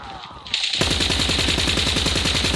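Sustained automatic gunfire from a gun in the video game Call of Duty, a fast, steady stream of loud, close shots after a short quieter lead-in.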